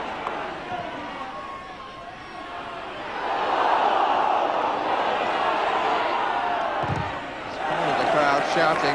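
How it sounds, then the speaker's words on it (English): A football match crowd at a 1989/90 English lower-league game roars and shouts, swelling louder midway. A commentator's voice carries over the steady noise of the stands, and a brief thump is heard near the end. "The crowd shouting."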